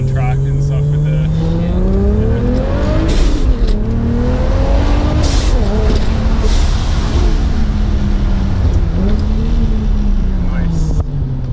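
A Toyota Supra with a 2JZ engine on a ride along, loud interior engine drone rising and falling through revs and gear changes, with speech over the engine noise.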